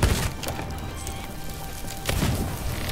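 Two heavy booming cannon impacts with splintering crunches of a wooden ship in Sea of Thieves, one at the start and another near the end, over a continuous noisy game soundscape.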